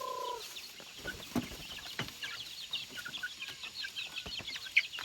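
Chickens cluck on a farm with a cassava field where pigs and ducks are also kept. Scattered short clucks and squawks come at close to moderate distance, with one sharper call near the end and no talking.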